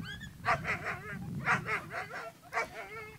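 A dog in an outdoor obedience training session gives a few short barks and yips with whimpering, close by, over low background rumble.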